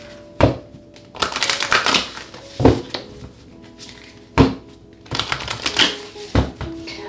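A deck of tarot cards being shuffled and drawn produces close, crisp riffling and slapping bursts in irregular clusters, with quiet pauses between handlings.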